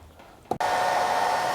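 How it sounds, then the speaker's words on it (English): A blow dryer clicks on and roars steadily at close range, heating 3M adhesive, its whirring hum and airflow constant after a brief switch-on thump. "plugging in this blow dryer and heating up this adhesive"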